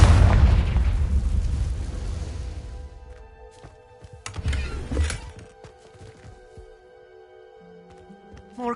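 Confringo blasting spell explosion in Hogwarts Legacy, a loud close boom with a roaring rumble that fades over about three seconds, then scattered debris thuds, a second smaller burst and faint trailing clatter.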